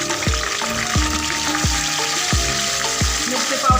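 Ginger garlic paste and red chili powder fry in hot oil for an egg curry, giving a steady close sizzle with periodic soft stirring knocks roughly every second, no voices.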